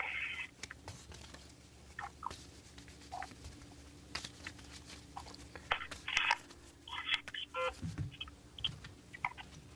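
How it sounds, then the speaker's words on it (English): A deck of playing cards is shuffled by hand at close range, giving irregular soft riffles and light crunchy flutters over a quiet room, with no speech heard. "You're going to go ahead and tell me when to quit shuffling."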